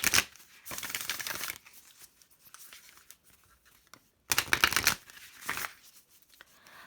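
Tarot cards are shuffled close by in two bursts of papery riffling and rustling, each about a second long, with softer handling sounds between them and no talking.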